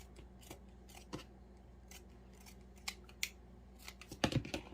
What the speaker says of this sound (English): I'm going to use my with pinking shears. I'm just going to trim this bottom edge a little bit